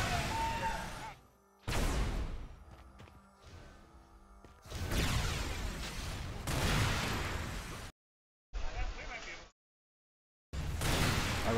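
Weapon fire in a Quake video game duel, sniper rifle against shock weapon: loud bursts of blasts and crackling shots separated by abrupt silent gaps, with a brief tonal zap near the end.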